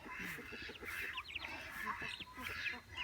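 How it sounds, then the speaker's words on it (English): Two-week-old meat chicks cluck and peep in a busy cluster, rapid chirps and soft clucks overlapping continuously at moderate volume, with faint talk in the background. "we got new meat chickens, and they're what, 2 weeks old?"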